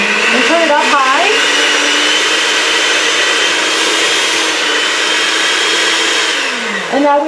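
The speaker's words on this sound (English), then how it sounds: "when you bring your mixer out, to keep it down in the bowl and turn it up high" An electric hand mixer whirs loudly at high speed in a bowl of frosting, holding a steady, strained drone for several seconds, with a brief pitch change near the start and end as the beaters shift.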